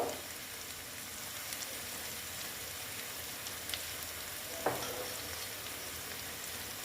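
Koi fish fries in oil with Kashmiri red chili powder, giving a soft, continuous crackling sizzle with a few faint clicks of stirring. It is quiet and steady, with no talking.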